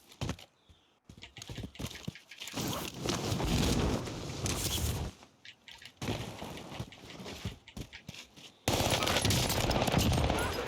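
XM4 assault rifle gunfire in Warzone Pacific, several long bursts of rapid automatic fire broken by short pauses, loud and close.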